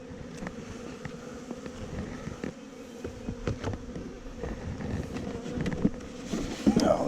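A honeybee colony buzzes loudly and continuously close by while its hive is moved to a nuc box, with the dense hum swelling louder toward the end and some wind rumble and handling knocks.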